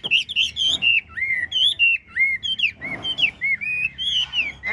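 A Chinese hwamei songbird sings loud and close, pouring out rapid, varied whistles, warbles and slurred chirps in continuous bursts with brief pauses.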